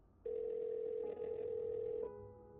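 A telephone dial tone heard while calling a parents' home, a steady, clean single-pitch hum that starts abruptly, holds for about two seconds, then shifts to a fainter, altered tone.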